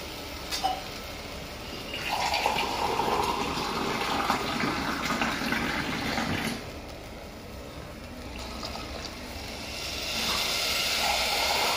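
Water gushing and splashing in bursts into a cooking pot of basmati rice, a long pour then a pause and another stream, fairly close with no talking.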